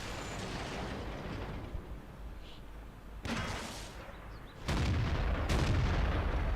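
Tank guns firing in World of Tanks, including an AMX 50-120, with two sharp, booming cannon blasts a few seconds apart over a low rumbling battlefield bed.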